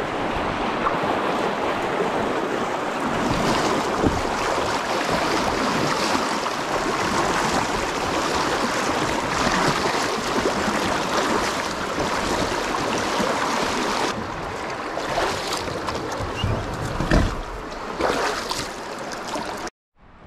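Creek water rushes and splashes in a steady, broad wash while a kayak is carried across, with wind buffeting the microphone and a brief quieter patch near the end.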